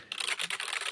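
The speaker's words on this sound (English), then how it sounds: "We can hear you typing." Rapid typing on a computer keyboard, close and crisp, with a fast, steady run of key clicks filling the whole second, no voices.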